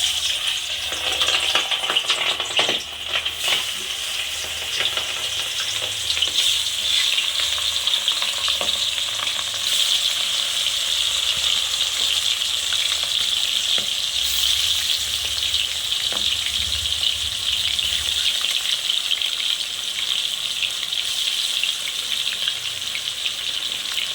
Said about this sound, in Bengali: তেলটা আমার ভালো করে গরম হবে, তারপর একে একে মাছগুলো ভাজবো